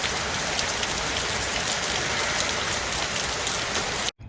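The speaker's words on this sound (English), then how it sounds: "I swear South Carolina has like the biggest raindrops and it just pours down." Heavy rain pours down in South Carolina, a dense, steady, loud hiss of big drops hitting surfaces nearby, unbroken until a brief cutoff at the very end.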